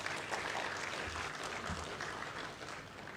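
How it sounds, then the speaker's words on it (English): Applause at a university inaugural lecture as the audience claps for a mentoring professor, a continuous wash of many hands, moderately quiet and even throughout. "Please give a big clap for him."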